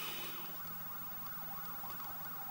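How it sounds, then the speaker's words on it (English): An ambulance or police siren wails in the distance outdoors, its rising and falling tone repeating steadily and faintly over a low background hiss. "I could just hear the ambulance or the police."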